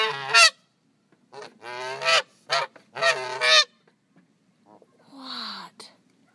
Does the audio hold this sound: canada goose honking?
yes